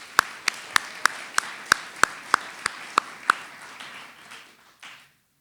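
An audience at a poetry reading claps in an even, rhythmic beat of about a dozen sharp claps. The claps are close and distinct, then soften and trail off into a short wash before stopping.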